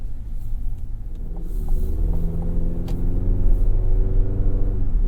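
A 2023 GMC Canyon pickup's engine, paired with an 8-speed automatic, rumbles and builds as it accelerates, a deep steady drone rising in pitch and loudness, close by with no talking.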